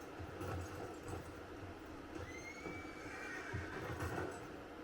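A horse neighs in Red Dead Redemption 2, a whinny rising over steady outdoor game ambience with some low rumbling, heard at moderate distance without talk.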